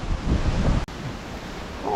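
Wind gusting hard past the microphone outdoors, a dense continuous rumble and hiss that briefly cuts out before surging again.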